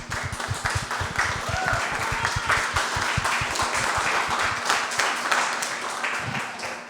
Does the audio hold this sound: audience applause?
yes